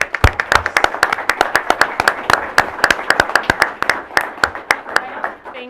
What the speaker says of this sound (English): Thank you all so much, and you deserve a round of applause.